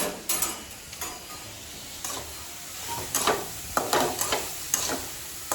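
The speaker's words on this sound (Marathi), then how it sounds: "ही कढई फक्त गरम केलं आणि आता ती आपण ढवळून घेऊया" Vegetables stirred in a hot kadai, with a string of scraping and clinking strokes against the metal over a soft sizzle, close and moderately loud, no talking.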